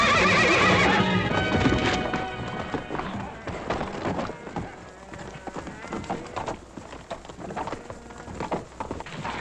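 A horse whinnies loudly at the start, followed by hooves clattering and thudding on the ground amid scuffling and a voice.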